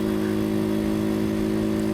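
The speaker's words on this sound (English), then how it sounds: "the gears are not the most sophisticated setup in the world, so you've got that clunk as you go" A Honda Cub 90 motorcycle engine runs steadily at a constant, buzzing pitch, close and continuous, with no distinct gear-change clunk standing out.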